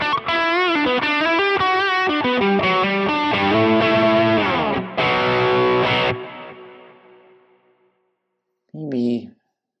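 Electric guitar runs through a pedal capture into a driven amp model on a Quad Cortex, with distorted, sustained chords and notes that ring out and fade, then a short final strum.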